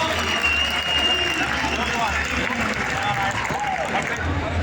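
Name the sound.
audience applause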